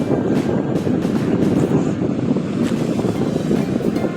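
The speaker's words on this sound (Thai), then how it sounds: "เดี๋ยวพาไปชมทะเลนะครับ" Sea waves and wind at Sichon beach in Nakhon Si Thammarat, Thailand: a loud, continuous wash of surf with repeated breaking swells, overlaid by heavy wind buffeting against the microphone.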